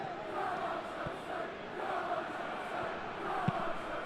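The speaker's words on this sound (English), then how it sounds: "Crowd calling for him to shoot." A stadium crowd in the football video game PES 2021 roars and chants in a steady, moderately loud wash, with a couple of brief thumps from the match.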